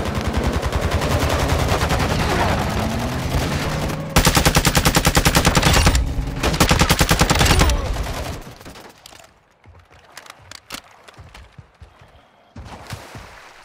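Rapid automatic gunfire from a Call of Duty: Modern Warfare II match, loud sustained bursts for the first eight seconds, then sparser scattered shots and thuds as the action thins out.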